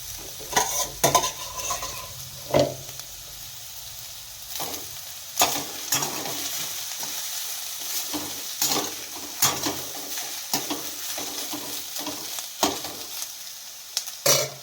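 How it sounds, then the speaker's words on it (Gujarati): A spatula stirs chillies into leftover rice in a pan while making Schezwan rice, giving repeated scraping strokes at an irregular pace over a soft sizzle, close and with no one talking. "હવે તેમાં આપણે મરચાં નાખી અને બરાબર મિક્સ કરી લઈશું"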